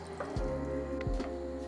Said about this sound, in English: I'll add in some more water